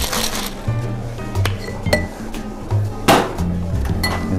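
A cocktail shaker holding a half and half and cola drink mix is shaken close up, giving irregular clinking, rattling knocks of ice against the shaker, loud and uneven.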